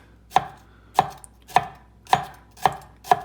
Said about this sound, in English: Using a very sharp knife, you want to make a few cuts across